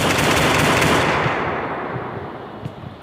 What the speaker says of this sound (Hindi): उसके बाद मैं चोर को मार लेता हूँ बंदूक से।